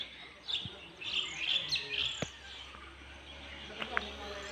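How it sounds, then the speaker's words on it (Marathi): Mynas and small sparrows chirp in a quiet village at dawn, with scattered bright calls and short tweets close by, under a faint steady insect hum. "शालूम किंवा चिमण्या बारक्या बारक्या त्याच आहेत त्यांचाच आवाज जास्त आहे"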